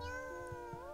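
A cat meows in a Japanese visual novel game, a short mewing call rising over soft background music with no talk.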